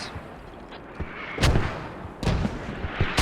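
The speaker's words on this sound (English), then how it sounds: "Mortars still causing a lot of devastation from Mumblerines guys directly on Hemp Farm" Mortar fire landing on Hemp Farm in a Squad tournament match, two heavy booming impacts over a constant rumbling battlefield background, with no one talking.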